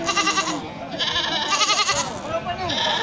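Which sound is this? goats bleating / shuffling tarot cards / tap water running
goats bleating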